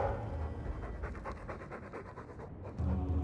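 Mabari war hound in the Dragon Age 2 video game panting in steady rhythmic breaths, close and fairly loud over a low ambient game hum, with no one talking.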